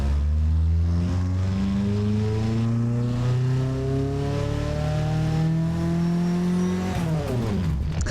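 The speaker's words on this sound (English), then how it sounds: "if you want to hear an engine explode, you're about to hear it." An inline-four turbo engine in a racing video game revs steadily higher in pitch under load for several seconds, then breaks off abruptly into a harsh, ragged burst as it blows up.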